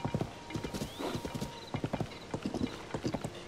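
Rhythmic clip-clop of horse hooves from a Zelda video game, steady repeated footfalls at close range, mixed with faint game chimes and effects.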